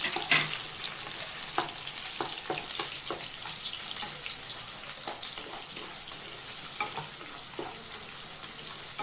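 Finely chopped onion and green chilies fry in a pan for an amaranth-leaf stir-fry, giving a steady close sizzle broken by occasional scraping stir sounds, with no voices.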